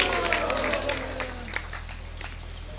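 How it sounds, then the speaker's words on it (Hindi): Applause for a guru at a Bhagwat saptah gathering in Baraut, with many hands clapping loudly at first and then gradually thinning, plus a low electrical hum and a few voices mixed in. "इसलिए श्री गुरुदेव जी के लिए जोरदार तालियां"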